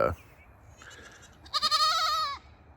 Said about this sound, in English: my little goat, here she comes